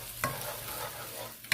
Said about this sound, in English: We're going to saute these up just for a little bit before we throw the eggs in there.